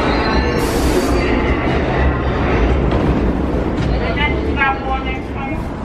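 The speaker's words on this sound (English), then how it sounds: "Getting on the train." Loud, steady rumble of a New York City subway train in motion, with rattling wheels and a faint high squeal, continuous throughout.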